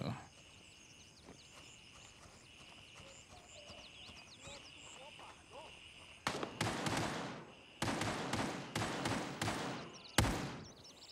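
Gunfire in the video game Gray Zone Warfare: a burst of loud sharp shots, single and in quick runs, breaking out over the last five seconds after a quieter stretch of ambient noise, with people talking.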